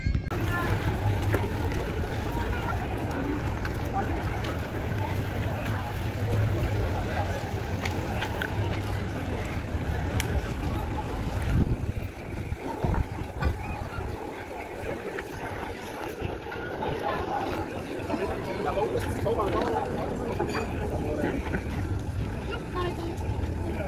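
Large ships on the water at Trogir, Croatia, heard as a steady low engine rumble and water wash mixed with wind buffeting the microphone, continuous throughout with a person speaking over it.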